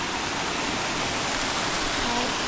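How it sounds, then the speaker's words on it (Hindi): A beautiful waterfall pours down from above in a cold mountain area of Uttarakhand, giving a steady, loud, broadband rush of falling water that fills the whole stretch without pause. "यहाँ पे काफ़ी खूबसूरत झरना निकल रहा है ऊपर से"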